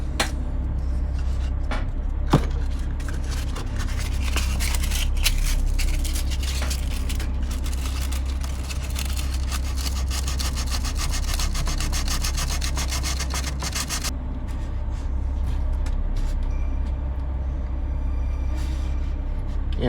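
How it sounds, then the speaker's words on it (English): Hand sanding on a 1:50 scale wooden model ship kit, a steady close rasping rub that continues throughout and grows slightly quieter toward the end. "I want to sand it down a bit."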